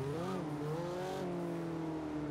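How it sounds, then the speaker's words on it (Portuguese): A Mitsubishi Eclipse races in Forza Horizon, its engine a steady, loud drone with rising and settling harmonic pitch as it revs and holds speed, close and continuous throughout. "Escuta a bomba do motor."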